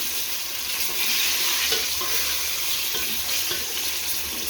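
Vegetables fry in hot oil in a pan, close and fairly loud. The crackling sizzle is steady and dense, with faint stirring and no speech.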